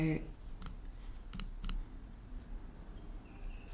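A few sharp, faint mouse clicks while saving a pop-up setting in an online course, spaced as short isolated ticks in a quiet room.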